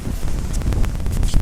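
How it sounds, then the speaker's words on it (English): Strong wind roars across an open outdoor field, a dense low rumble of buffeting gusts on the microphone, loud and continuous, with no voices. "it's very windy and there are lots of birds"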